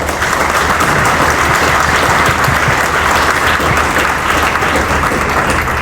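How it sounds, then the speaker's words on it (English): A panel-event audience in a hall gives a loud, dense round of applause that holds steady throughout, with no talk over it. "Let's give him a handy round of applause."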